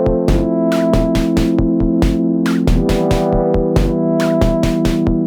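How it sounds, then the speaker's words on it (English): A rhythmic synthesizer sequence from a Moog Labyrinth paired with other semi-modular synths plays loudly, with pulsing bass notes and bright, repeating electronic hits in a steady, quirky pattern. "You can pair it with other semi-modular synths to sound like this."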